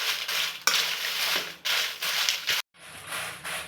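Dried red chillies dry roasting in a pan over a medium flame, with steady rustling and scraping as they are stirred, a sharp clink near the start and a brief break before the stirring resumes.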